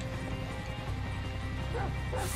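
A small dog yips and barks a few times in Grand Theft Auto V, short sharp calls near the listener over steady game background noise and music.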